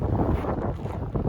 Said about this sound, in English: 3 degrees Fahrenheit and the wind is howling.